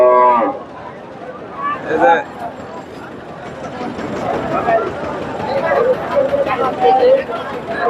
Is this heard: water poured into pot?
no